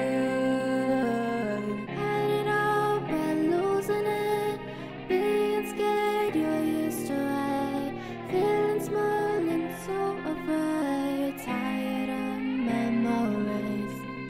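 A sustained singing voice with stepped, robotic pitch jumps from heavy pitch correction, over a steady backing track, with no talking.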